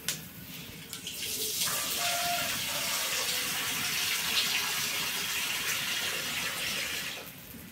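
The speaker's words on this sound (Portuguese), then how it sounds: "porque a gente vai acrescentar água" Water pours steadily from a tap into a cooking pot in a rural kitchen, a continuous close rushing stream that starts after a couple of clunks and fades out at the end.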